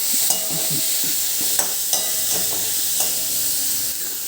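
A medium tomato, chopped, is stirred into sautéed onions in a pan over low flame: a steady soft sizzle with scattered scraping clicks of the spoon against the pan, close and alone.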